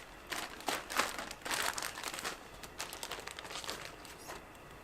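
A plastic Ziploc bag, reused as a garbage bag at an outdoor fire-cooking setup, crinkled by hand in several close bursts of crackling rustle with short pauses between.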